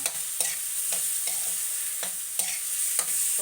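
Ingredients for tinolang manok sizzle in a pan while being stirred, with a bright steady frying hiss broken by regular scraping strokes of a utensil, close and with no talking.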